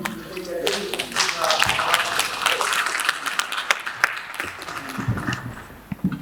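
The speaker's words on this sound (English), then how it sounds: "We need to give Sylvie Matley another round of applause, please." Audience applause for a conference speaker at a higher-education event, dense sustained clapping from a crowd across the whole stretch, fading slightly near the end with a few scattered claps and some voices underneath.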